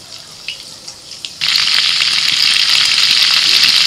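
White cooking oil and a spoonful of butter in a pan for chicken makhani: quiet for over a second, then a sudden loud bright sizzle that holds steady and close to the end, no talk.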